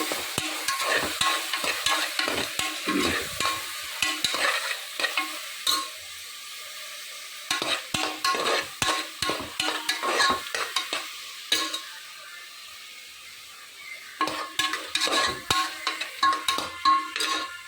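Ginger garlic paste for chicken biryani is stirred in a frying pan with quick, repeated spoon scrapes over a steady sizzle, close and moderately loud, with no voices.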